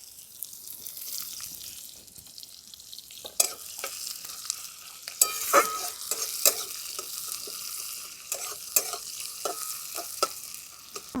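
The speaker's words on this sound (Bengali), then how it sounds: "এরপর দিয়ে দিচ্ছি কেটে রাখা পেঁয়াজ।" Chopped onions go into hot oil tempered with nigella seeds and green chilies, hissing in a soft sizzle that sharpens after a few seconds, with scraping stirs and clinks scattered through.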